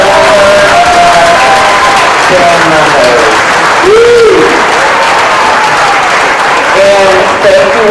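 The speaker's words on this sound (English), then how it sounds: "one last round of applause for our outstanding singers" At an elementary school winter concert, the audience gives a loud, full round of applause for the singers, with scattered cheering and voices mixed into the steady clapping throughout.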